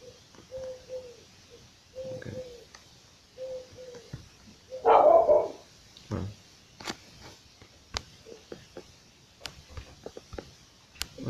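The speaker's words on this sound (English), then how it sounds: "My dog." A dog barks several times in short, irregular bursts, with one louder yelp in the middle and softer whimpering yips between, heard at moderate distance.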